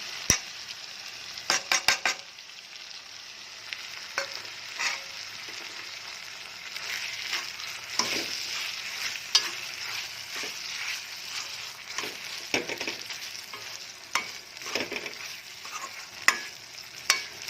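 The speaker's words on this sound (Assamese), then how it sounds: "এনেকৈ অলপ ফ্ৰাই কৰিব লাগিব, ভাজি ভাজি" Almond paste frying in a pan for chicken curry gives a steady close sizzle, broken by sharp scraping and clicking stirs throughout, with no voices.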